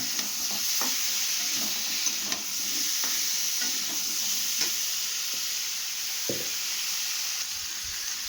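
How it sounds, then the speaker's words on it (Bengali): Vegetables with salt and turmeric keep frying in a pan, a continuous close sizzle broken by soft stirring scrapes and taps, with no voices. "এবার আবার কিছুক্ষণ ভাজবো"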